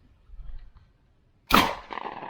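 A Stoeger coach-gun fires a black powder shot, one loud close bang with a rumbling tail after a quiet pause, preceded by faint low handling noise.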